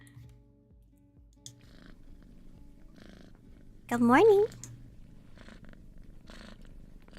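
A cat purrs softly in a home setting while a person greets it and speaks gently. A brief louder cat call rises in the middle before the quiet purr and talk return.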